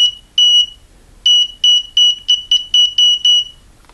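A continuity tester on an LM317 adjustable voltage regulator kit beeps in a rapid series of short, sharp electronic tones. There is one beep, a pause, and then about eight quick pulses, close and loud with no talking.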